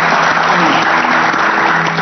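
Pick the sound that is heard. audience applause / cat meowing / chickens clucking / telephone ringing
audience applause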